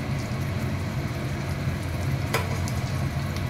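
Ground spice paste sizzles steadily in hot oil alongside softened ginger paste for chicken makhani boti masala, a close, continuous crackling fry with a brief clink partway through.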